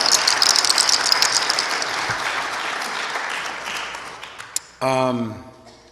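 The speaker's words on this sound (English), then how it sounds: "Give Beth a round of applause" An audience at an Earth Day gathering claps for Beth in a loud burst that gradually thins and fades, then a voice begins speaking near the end.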